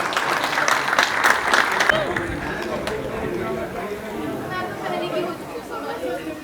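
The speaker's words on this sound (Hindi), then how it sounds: "तालियां जोरदार तालियां" Loud applause from a crowd at a birthday celebration in a Guru Ravi Dass temple in Samba. It is dense at first, then thins into scattered claps under steady crowd chatter and voices.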